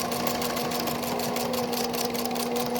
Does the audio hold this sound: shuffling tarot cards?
no